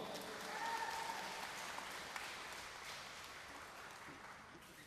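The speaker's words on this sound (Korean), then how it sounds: "네, 박수 한번 보내주세요." Applause from an audience at a neighborhood residents' briefing on a redevelopment plan in Bulgwang-dong, a steady, fairly faint patter of many hands clapping that carries through the whole stretch and slowly eases off.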